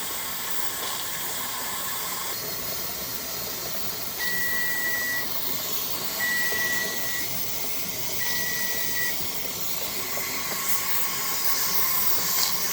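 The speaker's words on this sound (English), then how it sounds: "you can see that steam, and you hear the noise" Steady, broad steam hissing from a T-Fal 22-quart pressure canner venting while canning potatoes continues throughout, with three short electronic beeps spaced a couple of seconds apart partway through.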